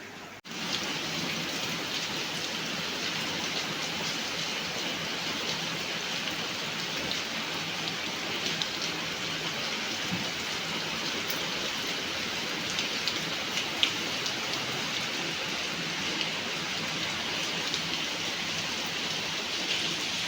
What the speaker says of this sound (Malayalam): ഇവിടെ വന്നിട്ട് നമ്മൾ ആദ്യമൊക്കെ മഴ പെയ്യുന്നു.